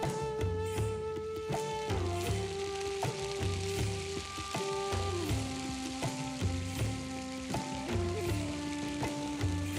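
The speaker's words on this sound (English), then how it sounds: "When the oil's hot, add some cumin seeds, let them sizzle." Cumin seeds sizzling in hot oil in a pan, a continuous crackling fry heard close and steady throughout, with a sustained tonal hum running beneath it.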